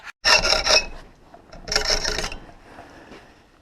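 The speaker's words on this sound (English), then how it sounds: "I'll take my best guess there with the hacksaw and saw that off" A hacksaw cuts off the excess length of a metal rivet on a twine cutter, two close, harsh rasping strokes about a second apart, the second fading into a softer scrape.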